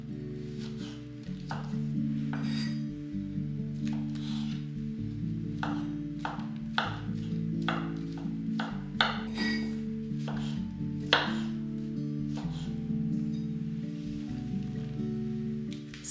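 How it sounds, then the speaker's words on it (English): Knife chopping mushroom stems into small pieces on a board, a run of quick, irregular close taps over a soft background hum. "Chop them into small pieces."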